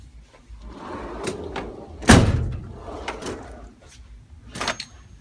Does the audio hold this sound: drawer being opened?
yes